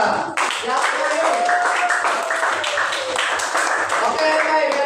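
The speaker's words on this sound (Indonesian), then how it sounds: "Nah, oke, tepuk tangan buat Bagus." Clapping from a classroom audience for a student presentation during a teacher-training performance test, steady and fairly loud throughout, with voices and a tonal whistle-like sound mixed in.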